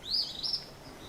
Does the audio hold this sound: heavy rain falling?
no